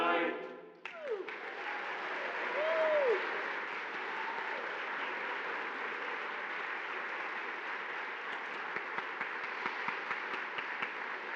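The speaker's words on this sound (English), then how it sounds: "again, a round of applause" Sustained audience applause from a Sweet Adelines barbershop harmony show crowd, broad and steady throughout, with a brief tonal sung or spoken sweep near the start.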